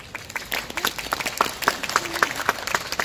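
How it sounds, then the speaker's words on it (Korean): An audience claps at a Buddha's Birthday lantern-lighting ceremony in Eunpyeong-gu, Seoul, a scattered, moderately loud burst of individual hand claps that keeps going steadily. "동의해달라고 큰 박수 부탁드립니다."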